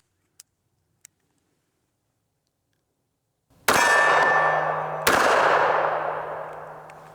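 Two sharp, loud gunshots from a Prodigy pistol fitted with an Underworld Arms Cerberus compensator crack about a second and a half apart, each ringing out with a long metallic echo after a couple of faint clicks.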